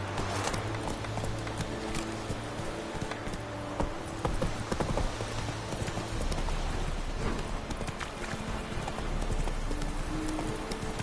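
Roach, a horse in The Witcher video game, clip-clops through rain in a steady trotting rhythm, hoofbeats close and clear over a continuous wash of rainfall.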